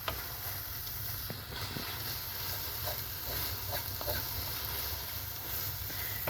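Spinach and tuna fry uncovered in a hot pan, sizzling and crackling steadily, with faint occasional stirring scrapes over a low background hum.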